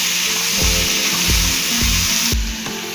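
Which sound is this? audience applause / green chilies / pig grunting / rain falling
green chilies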